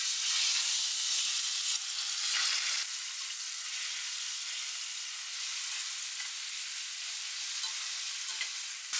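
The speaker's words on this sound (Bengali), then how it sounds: "এবার এটা সুন্দরভাবে ফ্রাই করে নেব" Chicken tikka marinated in yogurt, chili powder, cumin powder and tikka masala fries in a pan with a steady, close, bright sizzle that holds evenly throughout, with no voices.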